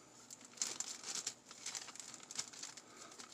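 Crinkly plastic rustles and crackles in short bursts as a bag is twisted, close by and fairly quiet.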